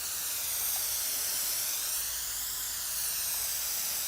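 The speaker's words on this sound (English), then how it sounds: "I'm going to spray this one more time" Spray adhesive hisses steadily from a can onto a van upholstery panel in a workshop, one continuous close, even burst of spray lasting the full few seconds with no talking.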